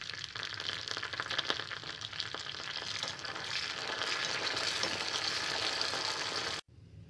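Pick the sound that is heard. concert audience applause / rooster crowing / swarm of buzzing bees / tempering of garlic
tempering of garlic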